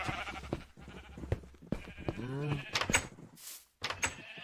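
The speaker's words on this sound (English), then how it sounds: "I got a lot of sheep" Sheep bleat in a video game, several short wavering calls close by in quick succession, mixed with clicks and brief game noises.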